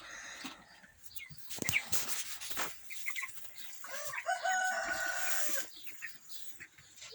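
36-day-old broiler chickens clucking and chirping close by in a continuous busy chorus, with scattered louder calls over a steady background murmur.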